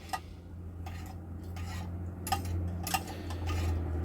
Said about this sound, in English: So you gotta stir it around quite a bit because the honey takes a little while to melt.